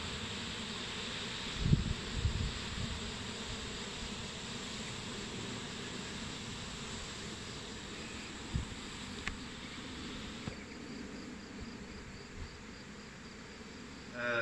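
Faint steady buzzing of a honeybee swarm at a hive, low and continuous with a few brief knocks, heard outdoors at a distance.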